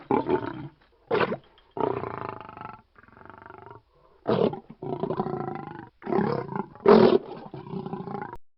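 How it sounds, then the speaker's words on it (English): A lion roars in a series of deep, rumbling bursts separated by short pauses, loud and close, with no other sounds around it. "lion"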